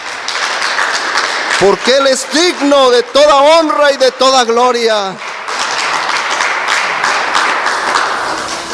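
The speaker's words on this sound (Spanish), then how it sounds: "Dele un aplauso fuerte al que vive y reina" Congregation clapping in a church service, steady applause heard first alone, then under a preacher speaking Spanish, and swelling again on its own as he finishes.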